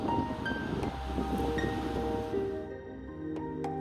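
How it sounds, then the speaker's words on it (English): The Kitakami River flowing through Morioka, Iwate, Japan, a steady rushing wash of water mixed with wind, constant and moderately loud throughout. "you will frequently hear the sound of the river"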